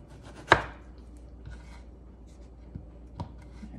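Knife chopping potatoes into large 3/4-inch dice on a cutting board. One sharp, loud chop is followed by a few softer, scattered cuts and light scraping in a quiet kitchen.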